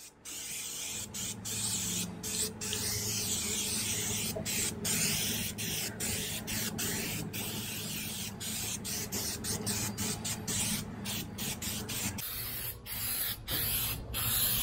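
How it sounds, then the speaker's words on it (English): Easy Tack spray glue hisses from an aerosol can onto a DR650 motorcycle seat pan in close, continuous bursts broken by brief pauses, with no talking. "get you some spray glue. This is Easy Tack."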